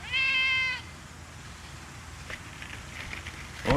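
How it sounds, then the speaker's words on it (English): A shop cat in a car body repair shop gives one loud, drawn-out meow at the start, then the room goes quiet apart from faint workshop background noise and a brief clatter near the end. "And apparently the shop cat is talking to us."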